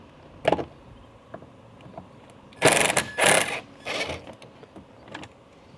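Screws are taken out of the HEPA filter cover on a Tesla Model Y, heard as a few short, close mechanical whirring and ratcheting bursts separated by near silence.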